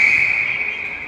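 At an ice hockey game, a referee's whistle gives one sharp, shrill blast. It is held steadily for about a second, loud and close above faint arena background.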